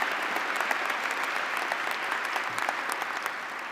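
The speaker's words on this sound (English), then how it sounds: "So let's give them all a warm round of applause" Warm applause for students at a university recognition ceremony, a dense steady wash of many hands clapping that carries on with no talk.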